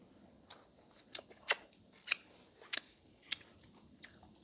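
Stone-grilled pork cooked on heated river pebbles outdoors is chewed close up, giving a series of sharp, moist crunching bites spaced roughly every half second over near silence.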